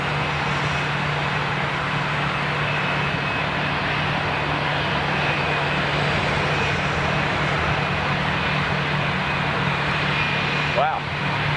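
Gulfstream jet aircraft passing overhead, a broad steady roar of jet engine noise holding loud and constant throughout, with a faint thin whine above it.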